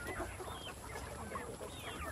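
Rhode Island Red rooster about three months old clucking on a farm, with repeated chicken calls over a busy, steady background of other fowl.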